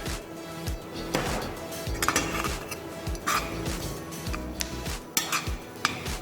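Desiccated coconut being stirred in a pan for baghaar baingan over a reduced flame, with repeated utensil scrapes and clinks against the pan and a faint sizzle underneath, close and steady without talk.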